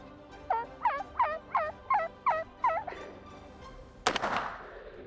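A wild Merriam turkey gobbles in a rapid series of about seven throaty, rolling calls at moderate distance outdoors, followed by a sharp loud crack and a brief rustle.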